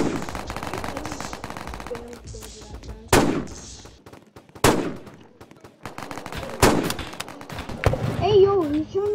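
Gunshots ring out in a Roblox shooting game, several sharp, loud single cracks spaced a second or two apart, with a player talking and game sounds between the shots.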